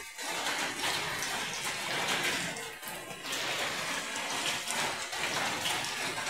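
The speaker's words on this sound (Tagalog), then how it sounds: "Sinsya na ang weather natin, panay ulan" Steady monsoon rain falls outdoors, a continuous close patter and splash with occasional heavier drips and no talk.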